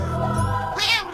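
Video game cat meowing loudly up close, a drawn-out nasal cry that rises into a brighter wail near the end, heard alone with no talking.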